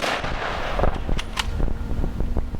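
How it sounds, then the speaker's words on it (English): Rifle volley from a memorial honor guard firing in salute, a sharp report near the start followed by several fainter cracks and clicks, outdoors with steady background rumble. "Ready. Aim. Fire."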